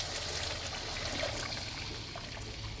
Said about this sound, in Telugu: పోస్తున్నాను వేడి నీళ్ళు.